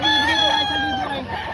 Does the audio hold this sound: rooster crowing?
yes